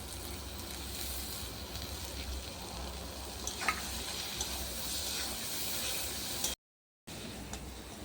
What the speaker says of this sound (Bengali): ভালো করে সব মশলাগুলো কষিয়ে নিয়েছি চিংড়ি মাছের সাথে